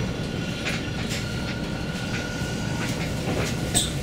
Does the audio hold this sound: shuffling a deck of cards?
no